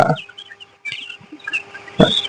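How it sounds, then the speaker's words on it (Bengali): Chickens on a poultry farm cluck and squawk in short, scattered bursts at close range, with a sharper louder call near the end and a faint hum beneath. "তো দেখতেছেন আমার ফার্মে যে মুরগিগুলো আছে"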